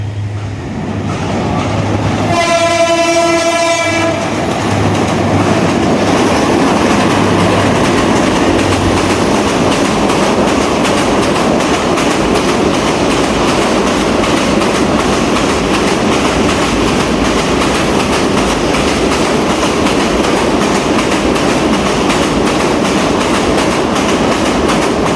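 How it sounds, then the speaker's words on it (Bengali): Train rolling past near the Arial Khan river, opening with a loud, sustained horn blast, then a steady, loud rumble and rattle of wheels and carriages that fills the rest of the clip with no talk. "কোন দিক থেকে ট্রেন?"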